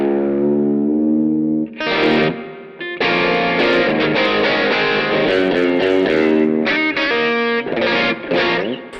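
Electric guitar played through the Vox amp model of a Mooer Preamp Live, strummed and picked chords with a driven, chorus-tinged tone, an opening sustained chord followed by busy, loud playing that stops briefly near the start.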